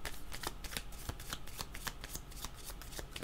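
Playing cards shuffled for a tarot-style reading, a quick run of crisp riffling flutters and soft snaps repeating steadily, close and fairly quiet with no talking.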